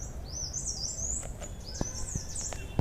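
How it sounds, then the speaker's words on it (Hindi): Birds chirp on a quiet, deserted road in Nainital with high, thin, sliding twitters in repeated phrases. A few soft clicks and taps sit over a low background hum. "शांत माहौल में चिड़ियों की बेहतरीन आवाज़ें आपको सुनने को मिल रही हैं"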